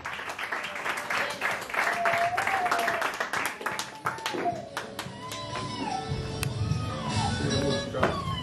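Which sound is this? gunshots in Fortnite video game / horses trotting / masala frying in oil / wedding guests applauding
wedding guests applauding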